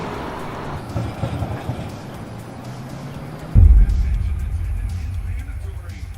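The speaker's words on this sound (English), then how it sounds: "Electric tram?" An electric tram rumbles past on a city street, a low heavy roar that swells suddenly and stays loud, with people talking over it beforehand.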